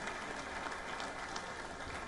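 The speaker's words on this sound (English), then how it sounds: "A roaring applause to the solar mamas of the world." Crowd at an International Solar Alliance summit claps for the solar mamas, a continuous, moderately loud wash of applause with no voices over it.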